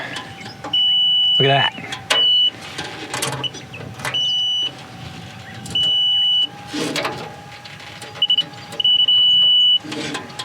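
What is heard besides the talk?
electrical tester beep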